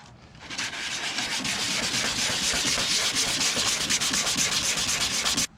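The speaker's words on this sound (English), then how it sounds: "a little bit of sanding along the ridges" Continuous hand sanding of Bondo and fiberglass along the ridges of a car body kit, a close, rhythmic scratchy rubbing that runs steadily for about five seconds before stopping.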